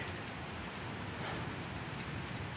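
Soft, steady rain hissing evenly in the background, faint and unbroken, with no other sounds standing out.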